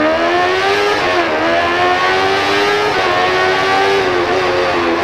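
MotoGP motorcycle engine revving hard during a spinning burnout quickstart in a racing video game, a loud, sustained high-pitched engine howl with slight pitch wavering and no talk.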